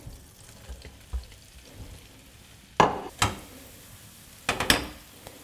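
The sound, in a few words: croutons frying in foaming butter in a pan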